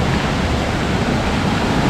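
Small mini waterfall at an outdoor spot, a steady broadband rush of falling water that stays loud and constant throughout with no talk over it.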